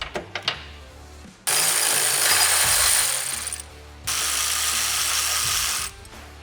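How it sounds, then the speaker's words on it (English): An electric ratchet spins off upper A-arm hardware on a Kawasaki Teryx KRX 1000 in two loud, sustained buzzing bursts of about two seconds each, with a few sharp clicks before them. "I'm going to crack the hardware loose and then use my electric ratchet"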